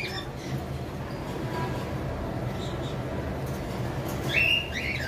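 High-mutation cockatiels, home-bred and kept for sale, give a few brief, sharp chirps near the end over a steady murmur of background noise.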